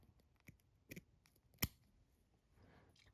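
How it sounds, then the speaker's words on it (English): Scissors trim the Kreelex synthetic wing on a minnow fly in a few quiet, separate snips, with one sharp close cut standing out among fainter clicks and soft handling noise. "I'm gonna trim this wing here."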